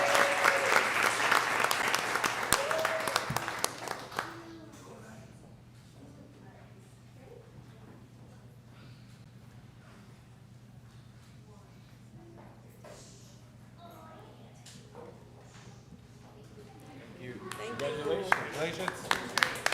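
Council meeting audience clapping for a birthday honoree, a burst of close applause at the start that fades into a quiet room hum, then swells again near the end.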